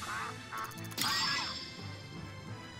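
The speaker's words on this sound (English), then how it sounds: "We're just gonna catch ducks." Ducks quack in the video game Shenmue 3 during a duck-catching minigame, with a short burst of quacks followed by a louder crash-like hit and game sounds.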